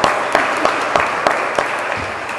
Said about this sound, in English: Make sure you give Amanda a round of applause,